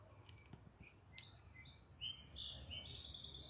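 Small birds chirp and sing outdoors in a quiet residential yard, a series of short high tweets and trills growing denser after the first second over faint low background rumble.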